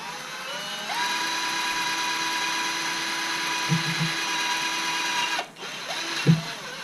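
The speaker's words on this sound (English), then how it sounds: "You just wiggle your drill bit around in there." Steady whine of a power drill boring a bit through a wooden board while making an ice-fishing tip-up, running continuously for several seconds, then stopping with a couple of short clunks of the bit being wiggled and handled.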